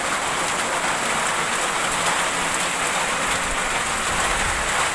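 Dense, steady rain hissing on surfaces all around, unbroken and fairly loud, with no voices, at a roadside stop near Kuchera market, India.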